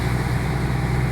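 Steady vehicle engine hum from a driver shifting into fifth gear, a constant low drone with no break and no talking.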